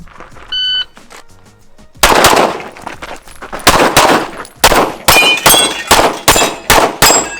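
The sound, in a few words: gunshots hitting steel targets in a shooting stage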